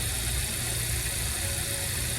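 A Chevrolet Camaro SS engine idles steadily with a low, even rumble and light vibration, running continuously with no talk over it.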